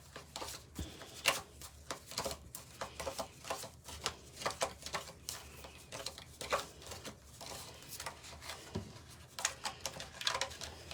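A deck of tarot cards being shuffled by hand: soft, irregular riffles and pattering flicks come in quick bursts, close and fairly quiet, with no talking.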